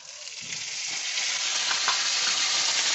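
Green chili and curry leaves fry in hot oil for ven pongal, a loud, steady, close crackling sizzle that builds slightly and holds throughout with no talk.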